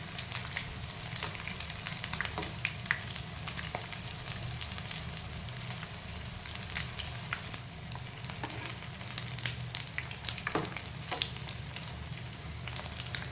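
Leftover-rice snack pieces fry in hot oil over medium heat, a steady, soft, continuous sizzle with occasional faint clicks as the pieces are turned.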